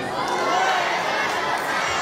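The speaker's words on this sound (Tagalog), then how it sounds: "Palakpak na may sigawan." Wedding guests cheer and shout together for the newly married couple. The dense, steady crowd roar is loud and fills the whole stretch, with no pauses.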